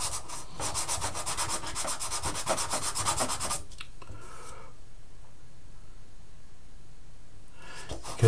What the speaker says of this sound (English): There's nothing you can do about that except sand it.